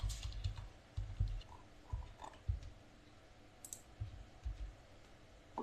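Text being typed on a computer keyboard, soft irregular clicks and taps in short bursts with pauses between, quiet and close, no voices.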